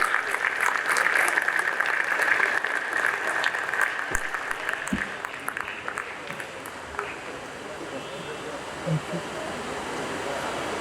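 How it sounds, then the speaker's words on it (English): An audience at a panel discussion breaks into sustained, dense applause that stays loud and steady across the whole stretch, with no speech over it. "Please give a huge round of applause for Ms."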